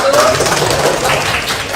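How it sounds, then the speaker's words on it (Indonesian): Classroom participants in a teacher training session clap for a presenting group, a brief, lively round of applause with a faint voice mixed in. "Tepuk tangan buat kelompok 1."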